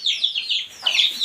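A brooding hen with her newly hatched chicks in a sheep-farm shed gives a run of high, chirpy clucking calls, close and fairly loud, with no one speaking.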